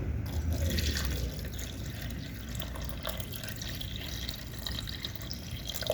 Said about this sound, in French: maintenant je vais rajouter de l'eau